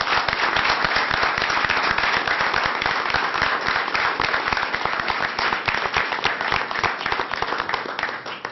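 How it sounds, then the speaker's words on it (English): A city council meeting audience gives a round of applause, sharp close handclaps forming a dense, lively burst that holds steady for several seconds and thins slightly at the end. "Let's give them both a big round of applause."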